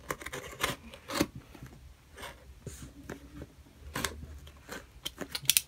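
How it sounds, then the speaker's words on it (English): A cardboard package is cut open with scissors, giving close, quiet snips and scraping crinkles in short irregular bursts, ending with a few sharper cuts. "Let's just cut this open."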